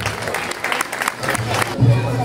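An audience claps for a nine-year-old girl at a children's casting for princess and knight roles, the scattered applause fading as a presenter's voice comes in near the end.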